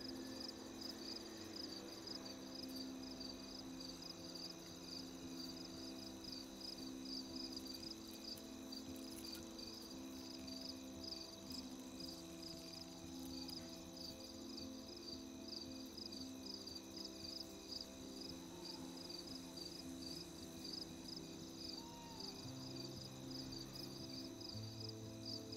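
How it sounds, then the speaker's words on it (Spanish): Crickets chirp in the video game Life is Strange, a steady high-pitched trill that holds throughout over soft low ambient music, with no talking. "Me encanta el sonido de los grillos."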